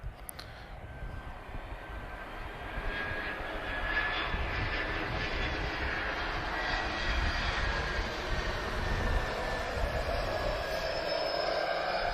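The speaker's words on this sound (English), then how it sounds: "Yeah, A319 just coming in now." An ex-Air Canada Airbus A319 with slightly uprated engines on approach into Lisbon Airport, its steady jet roar building after the first few seconds and holding loud and continuous, with no voices.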